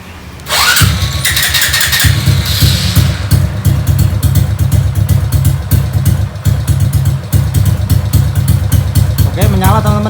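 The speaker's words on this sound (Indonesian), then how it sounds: "Kemudian kita coba nyalakan engine-nya ya" A motorcycle fitted with a remote alarm system starts after a short cranking whir, then settles into a loud, close, steady idle with a rapid mechanical chatter, and a brief electronic chirp sounds near the end.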